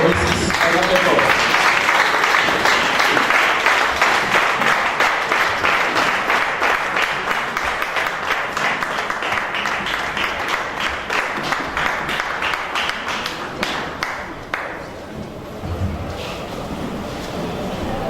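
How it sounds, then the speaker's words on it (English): Sustained applause from an audience at a cooperative inauguration in Lagos, greeting an official from the Ministry of Cooperatives, with dense clapping lasting the whole stretch, tapering slightly toward the end, and some crowd voices mixed in. "Please, a round of applause for Mrs. Onatheko."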